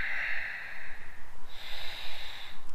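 Strong breaths pushed through the nose during a seated yoga twist in a beginner class, two sharp exhaled rushes followed by quieter, uneven breathing, close and without speech.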